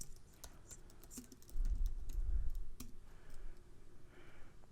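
Typing a search on a computer keyboard: quick, light key clicks in an uneven rhythm, close and fairly quiet, with a faint low rumble under the middle of the clip.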